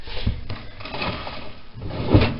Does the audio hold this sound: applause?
no